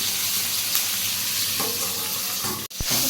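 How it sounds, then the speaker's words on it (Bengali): Flat beans (sheem) fry in a pan with a steady, close, loud sizzle, briefly interrupted near the end by a clunk as the pan is handled. "শিমগুলো এখন একটু ভাজা হোক, আমি একটু ঢেকে দিচ্ছি।"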